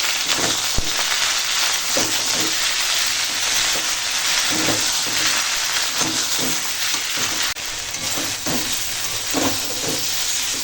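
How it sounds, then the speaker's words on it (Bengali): Vegetables sautéing in a pan with ground shukto spice paste, turmeric and salt, a steady loud sizzle and hiss with repeated scraping stir strokes throughout. "বেটে রাখা শুক্তোর মশলা দেব হলুদের গুঁড়ো আর দেবো স্বাদ মতো লবণ দিয়ে মশলার সঙ্গে একটু আনাজটা কষিয়ে নেব"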